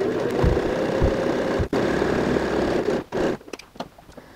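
A sewing machine stitches fabric for a handbag with a steady, close mechanical hum and rapid rhythmic thumping, stopping briefly twice before a few short final bursts.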